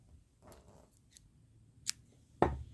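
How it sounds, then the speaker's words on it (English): Scissors cut crochet yarn while a hat is being joined, with faint handling rustles and then two sharp, close snips, the second and louder one near the end. "Let me get my scissors here."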